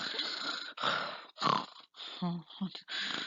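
A voice imitates wheezy, rasping breathing in several short strained bursts, close and fairly loud.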